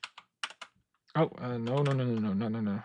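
A few quick computer keyboard taps make up a shortcut; the light, separate clicks are followed by a person talking.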